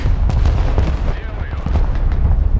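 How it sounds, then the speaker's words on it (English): Heavy artillery barrage in the video game Broken Arrow, a dense run of close, loud booms and gunfire-like cracks rolling continuously with no pause. "That's big artillery!"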